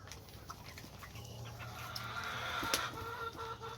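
Roosters and chickens, Cornish Cross and Rhode Island Reds, cluck and call softly in a coop in the morning, a faint steady mix of fowl voices at a distance.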